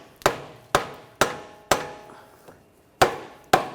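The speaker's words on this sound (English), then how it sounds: "just the rubber mallet, give it a couple taps" Sharp, close knocks from a rubber mallet tapping a CV axle on a 2009-2013 BMW 328i xDrive, six solid hits at an uneven pace with a fainter tap in between, each one quick and dry.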